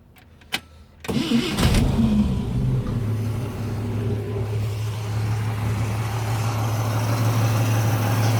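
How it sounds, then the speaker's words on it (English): A car engine cranks briefly and catches after a quiet moment, then settles into a steady, loud idle that runs on without pause during a generator output check. "Start the vehicle."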